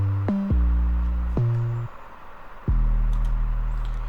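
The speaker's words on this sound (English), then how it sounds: "808 pattern 2, which adds some higher octaves of 808s. And then we also have 808 pattern number 3, which just adds more of the same" Deep 808 bass pattern with booming sub notes and added higher-octave 808 hits, in a trap-style beat; long sliding low tones stop and restart in a slow, heavy rhythm, loud and alone.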